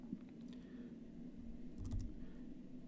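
Light typing on a computer keyboard entering cell addresses into a spreadsheet, a few soft clicks and short bursts of keystrokes over a low steady hum, faint and close.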